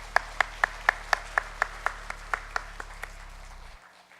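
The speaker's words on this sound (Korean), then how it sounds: "우리 하나님께 감사와 영광의 박수 올렸으면 좋겠습니다" A church congregation claps in unison during a Sunday service, about a dozen sharp, evenly spaced claps that slow and thin out before stopping, over a low steady hum.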